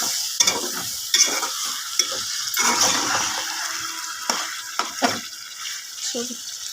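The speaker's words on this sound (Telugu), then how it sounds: "ఇట్లా వేగాలి. ఇది ఏగేకుండా బాగా ఫ్రై అవుతా పొడి పొడిలాడుతూ ఉండిద్ది." Goat blood fry sizzles in a pan with a steady crackle of hot oil, broken by several sharp stirring clatters and scrapes of a spatula at close range.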